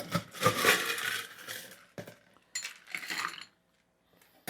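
Ice tumbles noisily into a cocktail shaker for an Oreo mudslide, a close rattling clatter of cubes, then a few shorter clunks after a pause before it goes quiet.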